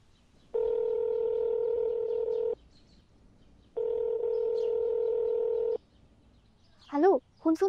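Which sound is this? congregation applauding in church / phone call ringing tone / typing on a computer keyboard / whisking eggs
phone call ringing tone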